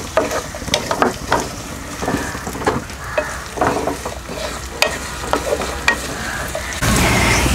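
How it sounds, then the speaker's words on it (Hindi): Finely chopped raw tomato frying in a pan while being stirred, a continuous loud sizzle broken by frequent scraping and clinking stirring strokes, close up. "टमाटर को हमने 2 मिनट तक फ्राई किया है।"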